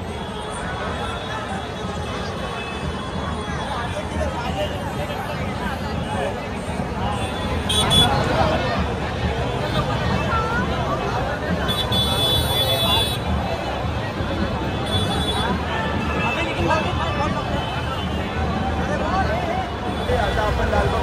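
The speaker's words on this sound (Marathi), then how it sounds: "मंडळी गणसंकुलच्या इथे गर्दी बघू शकता तुम्ही." Dense crowd hubbub at a Ganpati Aagman procession in Mumbai: a steady wash of overlapping voices and street noise that swells slightly partway through, with people talking throughout.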